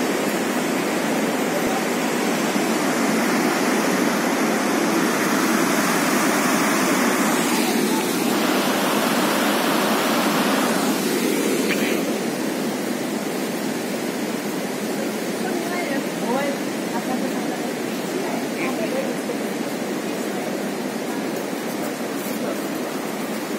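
River water in the Seti River Gorge, Nepal rushes in a loud, steady broadband roar that fills the whole stretch without letup.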